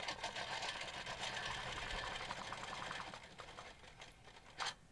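A long-arm quilting machine stitches along a clamshell quilting ruler, a fast continuous mechanical whir that runs steadily, then eases off near the end with a brief scrape.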